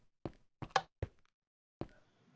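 A door opened with a lever in Minecraft Pocket Edition gives a few short, close, hollow thunks spaced irregularly, followed by a softer click and faint hiss in otherwise quiet surroundings.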